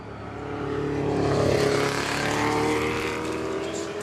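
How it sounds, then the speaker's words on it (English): A Ferrari 512S Coda Lunga race car climbs the hill at the Goodwood Festival of Speed, its engine swelling into a loud, sustained roar that holds steady before fading slightly, with crowd and commentary murmur faintly beneath. "Just seen the Ferrari 512S Codalunga go up, absolutely gorgeous"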